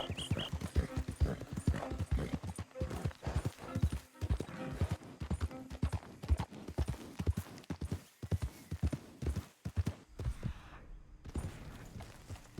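Horse hooves clip-clop at a steady walking rhythm in the Red Dead Redemption 2 video game, close and fairly loud, with a faint voice now and then underneath.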